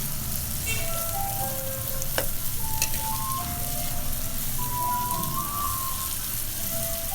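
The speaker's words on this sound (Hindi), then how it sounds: "प्याज को हल्का ब्राउन करेंगे।" Onions sizzle steadily in hot oil as they turn light brown, a dense close crackle that holds even and continuous throughout, with a single sharper tick partway through.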